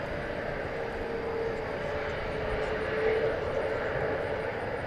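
Alaska Airlines Boeing 737 MAX 9 airliner at DFW Airport at night, a steady broadband jet roar holding level throughout, moderately distant, with faint tonal whine and no talk.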